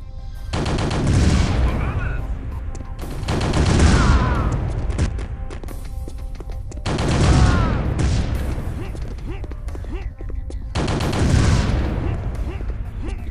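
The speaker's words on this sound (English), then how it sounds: "they're firing in 3-round explosive bursts" Explosive three-round bursts of enemy gunfire in the video game Chaser come as four loud, booming salvos spaced a few seconds apart, each trailing off with rumbling echoes.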